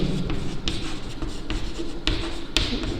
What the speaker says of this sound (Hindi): तो मैं यहाँ पे लिखता हूँ